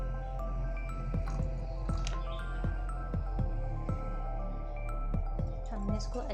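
Small splashes of water go into a thick mixture of mashed mash-dal lentils, making soft wet plops and drips at a rough once-per-second rhythm over a constant low kitchen hum.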